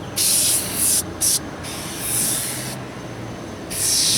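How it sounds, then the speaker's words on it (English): Meguiar's Heavy Duty Bug & Tar Remover sprayed from a bottle in several loud, hissing bursts of varying length, close up, with brief pauses between sprays. "I'm trying to hold the camera with one hand and spray with the other"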